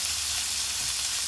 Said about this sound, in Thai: ผัดเจียวๆจนน้ำมันออกมาจากมันหมูนะคะ